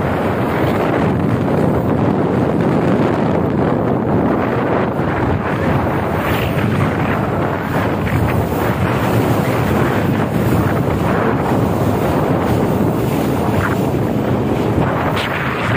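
Waves slap against a speedboat on the Musi River in Palembang, churned up by a passing jukung motorboat, making a continuous loud rush of water and engine noise with heavy wind buffeting on the microphone.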